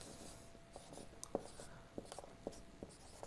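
Chalk or marker tapping and scratching on a board as a word is written, a quiet series of short irregular strokes close by, with no talking.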